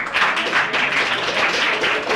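Steady, dense applause from an audience at a school prize distribution honoring a Class XII Arts prize winner, sustained and fairly loud throughout with no gaps.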